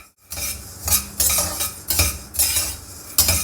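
Coriander seeds dry-roast in a pan while being stirred, making repeated rattling, scraping sweeps of a spoon against metal in uneven bursts, close and fairly loud.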